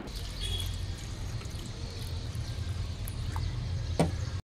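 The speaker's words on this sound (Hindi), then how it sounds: "इमली के अंदर पानी ऐड करके" Water is poured over a handful of tamarind in a home kitchen, a steady close trickle and splash running throughout over a low background hum.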